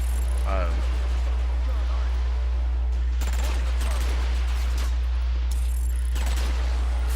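Photon burst rifle fire from the Transformers: Fall of Cybertron game, heard as two sustained rapid volleys of energy shots separated by quieter mechanical clicks over a steady low hum.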